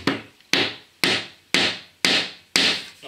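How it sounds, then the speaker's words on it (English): A hammer taps a wooden stair part into place during a loft stair fitting with rails and spindles: five sharp, evenly spaced knocks about half a second apart, close and loud, with no talking. "I'm going to get my hammer"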